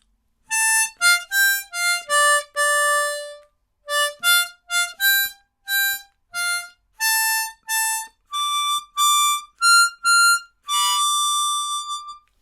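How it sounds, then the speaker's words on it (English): Harmonica plays a quick phrase from a song, jumping between non-adjacent notes in the upper range, short separated notes, bright and reedy, with brief pauses between groups and a longer held note near the end. "it's a good workout for getting up the top end of the harmonica and actually going to non-adjacent notes"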